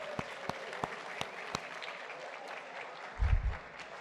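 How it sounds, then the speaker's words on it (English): Faint, sparse claps at an awards ceremony dinner thank the catering staff, a handful of distinct hand strikes at a steady pace, followed by a short low thump. "let's give a round of applause to our catering staff for that fine meal"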